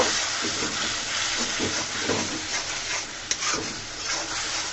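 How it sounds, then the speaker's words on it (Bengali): Red chili powder and fish masala fry in oil in a pan as they are stirred, producing a steady, close, hissing sizzle with soft scraping and stirring textures and one brief sharp tap. There is no talking. "দিয়ে সুন্দর করে মশলাটাকে আমি কষিয়ে নিব"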